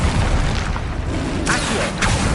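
A Bombarda spell explosion in Hogwarts Legacy video game booms with a broad, rumbling burst, followed by sharper blasts and whooshes in quick succession.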